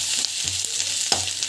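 Spices and cashews are sautéed in a pan, giving a close, steady sizzle with a few dull knocks as the contents are stirred.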